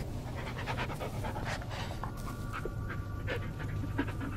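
A dog pants steadily in the Blair Witch video game, quick rhythmic breaths up close over a low ambient hum, with a faint whimper-like tone partway through.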